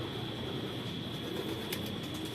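Racing pigeons in a loft, with soft cooing and faint bird sounds heard over a constant background hum and hiss.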